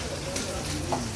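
Puti fish fry in hot oil with a steady, close sizzle at a fish hotel, the crackle continuous through the short moment with faint background noise.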